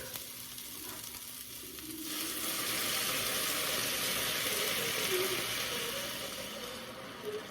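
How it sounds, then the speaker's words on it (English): Stock poured into a hot pan of chicken noodle soup, the sizzle swelling into a steady bubbling hiss with faint stirring scrapes, nearby and fairly quiet. "So now we are going to add the stock."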